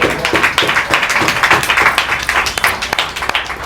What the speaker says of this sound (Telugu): ఓకే, చప్పట్లు కొట్టేసరి బాగానే ఉంది.